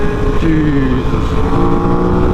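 An Aprilia RS660 motorcycle engine drones loudly under heavy wind rush on a group ride, its pitch dipping and shifting as gears change, with the roar continuous and close throughout.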